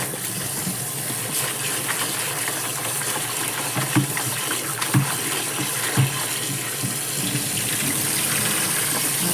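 Tap water runs steadily over chili pepper leaves being rinsed in a kitchen, a continuous close splashing stream with a few small knocks and clatters, no talking.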